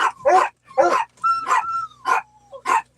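A dog gives five short, close barks and yips, evenly spaced over a few seconds, with a thin whining tone trailing between the later ones.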